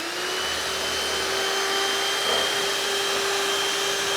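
Steady whining hum of an electric mixer beating rum cake batter at close range, constant in pitch and loudness throughout.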